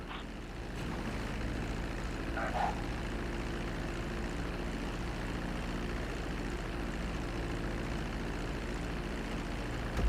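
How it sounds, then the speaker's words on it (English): Plane in GTA 5 descending toward a runway, a steady droning engine and propeller hum that holds loud and even throughout, with a brief higher whine early on. "Start reducing the plane's altitude gradually so you're just above the runway as you approach."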